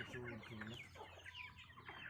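Native chickens cluck on a farm in a few soft, close, repeated clucks. Quiet chatter runs faintly underneath.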